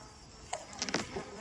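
Honeybees buzz around a beehive that has just been moved. A few short, faint whines drift close past over a quiet background, with no talking.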